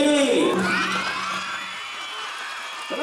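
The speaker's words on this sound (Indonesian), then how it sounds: "Tepuk tangan sambil teriak ye." A crowd of schoolchildren cheers and shouts together at a storytelling event, a loud burst of whooping voices that gradually fades.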